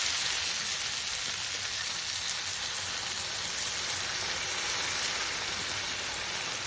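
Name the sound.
beans added to a hot pan, sizzling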